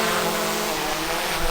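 A DJI Mavic 2 Pro drone's motors spin up, making a continuous close whirring buzz that holds steady and loud without pause.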